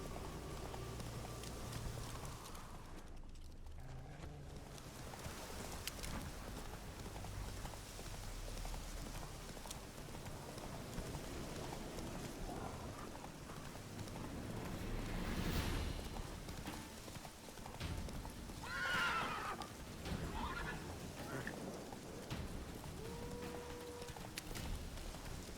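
Hooves of Roach, a horse in The Witcher 3 game, clip-clopping in a steady rhythm throughout at a soft, fairly distant level amid ambient game sounds, with no clear neigh standing out.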